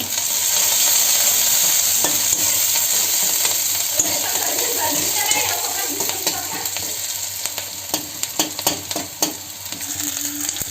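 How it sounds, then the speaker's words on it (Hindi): Spoon stirring chillies frying in a pan while preparing a spicy tea-time snack, with steady continuous sizzling and scraping close up, a few sharp clinks of metal on the pan near the end, no talk. "अब चम्मच चलाओ।"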